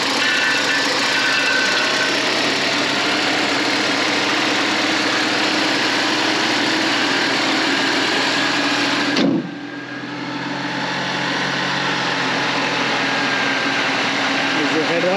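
A 1986 Porsche 944 Turbo with a 2.5-liter engine idles steadily and loudly nearby, a smooth continuous drone broken briefly by a dip and a bump partway through before settling back to the same even idle.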